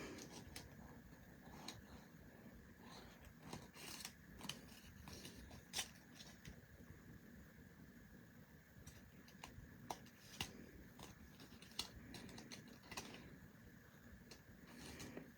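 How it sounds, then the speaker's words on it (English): Scissors cutting out craft pieces: quiet, irregular snips and paper rustles repeating over a faint, steady background hum. "And then I might cut out this one too."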